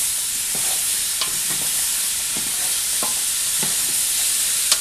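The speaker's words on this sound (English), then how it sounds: "We're going to add our sweet potatoes now. A little bit. Mix it up." Sweet potatoes being stirred into a pot of southwestern sweet potato soup, with a steady hiss and scattered soft scrapes and knocks of the spoon against the pot, close and continuous, no talking.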